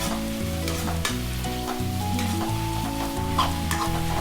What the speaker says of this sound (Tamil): நான் அப்படியே கண்டினியூஸாக ஸ்டீர் பண்ணி சாட்டே பண்ணிட்டேன்